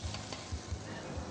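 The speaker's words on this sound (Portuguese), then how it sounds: "essa é a cebolinha que nós vamos deixar dourar um pouquinho" Chopped green onion browning in a pan gives a steady, close sizzle, with faint low stirring bumps beneath it and no voices over it.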